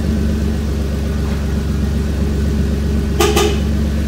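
A 2007-2009 Kia Sorento engine idling after a remote start, a steady low rumble close by with constant hum, interrupted near the end by a brief pair of sharp clicks.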